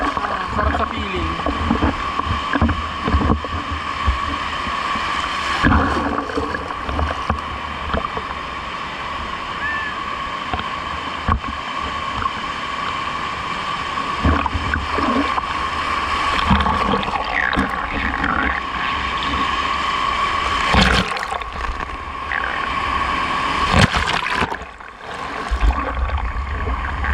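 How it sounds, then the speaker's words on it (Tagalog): Waves roll in at a beach in Morong, Bataan, producing a loud, continuous rushing wash of surf that swells over time, while a person talks and exclaims over it. "Lumalakas na yung wave, oh."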